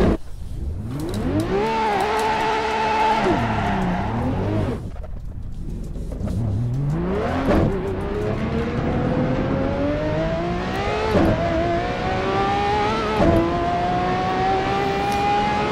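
Ferrari 599XX Evo V12 engine in the Assetto Corsa racing game at the Magione circuit, loud and steady, revving up through the gears with brief drops at each shift and long rising pulls between them.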